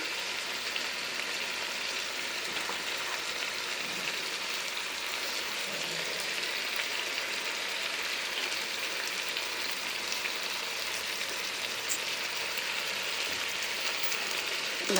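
Chicken pieces fry in oil inside a rice cooker, giving a steady, close crackling sizzle that holds at an even level from start to finish with no voices.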